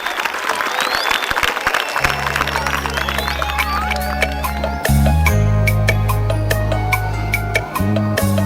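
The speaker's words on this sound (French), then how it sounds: "Nous vous demandons d'applaudir pour Télé Bruxelles" Dense applause from an audience fills the clip, with steady clapping that continues as a sustained low musical tone enters partway through.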